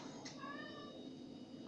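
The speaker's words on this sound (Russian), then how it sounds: "У меня тут у кота истерика случилась." A distressed cat meows repeatedly in a closed-off kitchen, a series of close, loud, drawn-out wails rising and falling in pitch over a steady low background hum.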